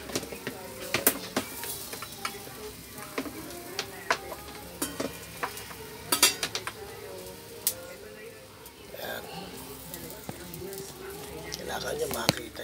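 Pork chops and hotdogs grilling, marinated in soy sauce with tomato, onion and garlic, give off a continuous sizzle with crackling pops and occasional clicks, close by, as soft voices talk over it.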